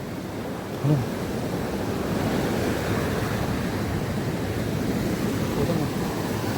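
Surf at Kokolem beach washing in as a continuous broad roar, close and steady, with wind buffeting the microphone.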